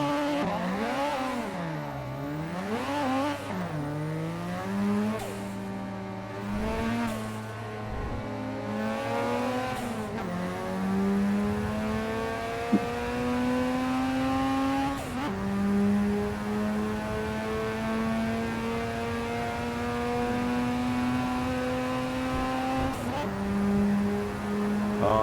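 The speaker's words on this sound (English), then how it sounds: "I can hear someone revving their engine like really mad" A car engine revs hard and loud in long rising and falling sweeps with strong harmonics, close by, alongside other fast cars on an open road, with a couple of sharp gear-change breaks and no talking.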